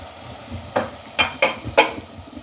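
Potato masala fries in a pan on raised flame, a soft sizzle underneath several sharp scraping clatters of a spoon stirring against the metal, four distinct strokes close by.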